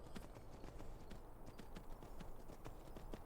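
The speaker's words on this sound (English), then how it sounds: "a horse that only wants cheese for treats" A horse in the Skyrim video game trots along, hooves clip-clopping in a steady, even rhythm that stays fairly quiet throughout.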